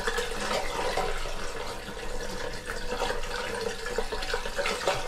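Water poured steadily into a shower drain trap in a school bus tiny house, a continuous close splashing and gurgling rush with no pauses.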